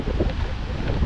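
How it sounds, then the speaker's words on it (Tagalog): Strong wind at a beach campsite in Dinahican, Infanta, Quezon buffets the microphone in a low, continuous rumble, loud and close for about a second with no voices. "Sobrang lakas ng hangin."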